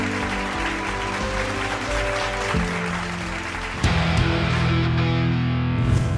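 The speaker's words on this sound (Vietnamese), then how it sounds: "Một tràng vỗ tay để gửi lời chào đến gia đình số 2." Studio audience applause on a Vietnamese TV dating show, a broad clapping wash blended under loud, sustained show music that swells partway through.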